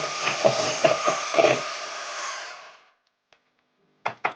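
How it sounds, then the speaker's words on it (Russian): An electric mixer whips cream with sugar, a continuous whirring hum for about three seconds before it cuts off, followed by a few faint clicks and knocks. "И все это мы взбиваем. Начиная с маленьких оборотов."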